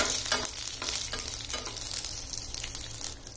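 Ingredients for a bhindi dish roast and sizzle in a pan with repeated scraping stir strokes, a close, continuous frying hiss and no speech.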